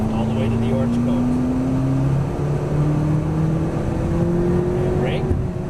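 A McLaren MP4-12C sports car accelerates out of a turn on a track at Exotics Racing in Las Vegas, its engine note rising steadily and continuously with a close, loud drone throughout, shifting in pitch near the middle.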